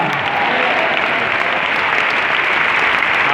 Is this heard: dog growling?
no